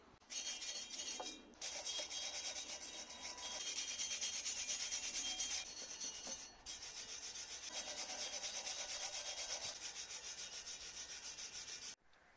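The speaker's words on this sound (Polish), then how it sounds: "Biorę teraz szczotkę drucianą i przeszlifuję wszystkie te spawy." Steady harsh scraping of a wire brush against metal welds, continuous and close, with a few brief pauses between strokes.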